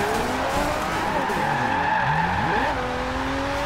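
An Aston Martin One-77 drifting in Forza Horizon 2 squeals its tires in long, wavering skids over a continuous engine drone, loud and close.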